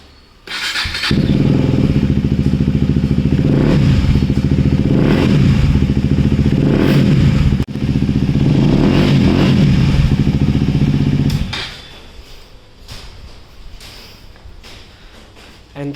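A KTM Duke 250 motorcycle fitted with an aftermarket exhaust fires up and runs loud and close, its engine rumbling steadily with small rev swells for about ten seconds before cutting off into quiet.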